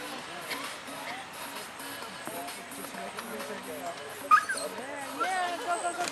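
A very young dog at an agility demo at a hunting and fishing show yips, whimpers and barks in short excited bursts, fairly close, while a handler talks over a busy indoor crowd.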